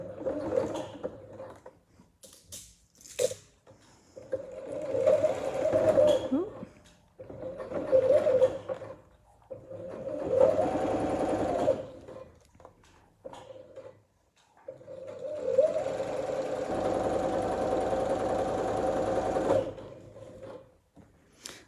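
A sewing machine stitches in several short bursts with pauses between, ending in one longer steady run; close and fairly quiet.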